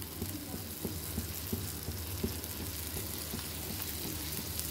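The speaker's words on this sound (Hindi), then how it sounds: "इसे मुझे एकदम लो फ्लेम में एकदम क्रिस्प होने तक फ्राई करना है" Chocolate lava bread fries in butter in a pan on a low flame, giving a steady soft sizzle with light crackles and occasional faint taps throughout.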